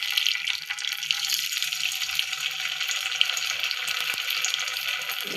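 Dried fish (karuvadu) fries in hot oil, a steady bright crackling sizzle that holds evenly throughout at close range with no voices over it.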